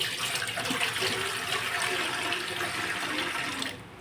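Water gushes steadily into a large cooking pot, set to heat while preparing sabudana chakli, with a continuous loud pour that cuts off near the end. No one speaks.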